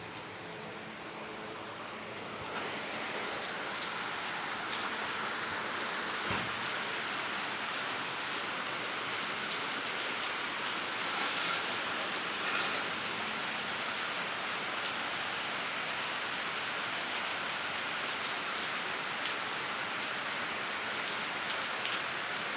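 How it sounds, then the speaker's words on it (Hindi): Heavy rain pours down steadily, a dense roar of drops on surfaces that strengthens after the first couple of seconds and stays constant. "देखिए हमारे यहाँ फिर बारिश शुरू हो गई है।"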